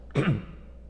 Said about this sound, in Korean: 이렇게 헛기침을 많이 하니까 목을 자주 사용하잖아요